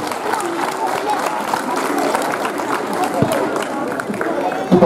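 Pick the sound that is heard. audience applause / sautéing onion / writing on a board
audience applause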